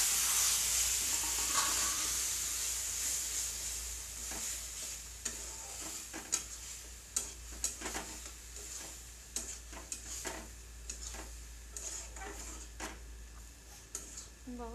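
Eggplant fries with garlic in a pan, giving a steady close sizzle broken by repeated scraping and tapping stir strokes, with a faint voice now and then.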